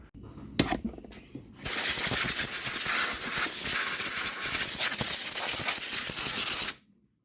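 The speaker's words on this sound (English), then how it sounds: "Let me hit it with some compressed air." Compressed air blasts onto a 2020 Jeep Wrangler front shock actuator in one loud, close, continuous hiss lasting about five seconds, preceded by a few clicks and taps and cut off sharply into silence.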